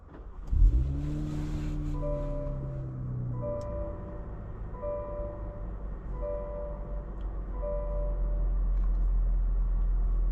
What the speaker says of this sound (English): today we're going for a drive in this 2025 Cadillac CT5V